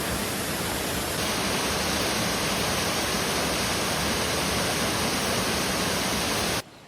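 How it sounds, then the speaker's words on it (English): The Songdam waterfall on a river trail in Songchu Valley, Bukhansan National Park, roars as a loud, constant rush of falling water close by, cutting off abruptly at the end. "I soon arrived at the first waterfall called Songdam."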